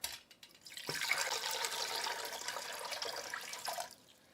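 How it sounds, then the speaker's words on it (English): Tap water runs into a pot to fill a water bath around a jar for herbal tincture and glycerite making, a steady hissing splash that starts after a few clicks and stops abruptly near the end, fairly quiet and close. "So I'm now going to fill this pot up with water up until about halfway up the height of the jar."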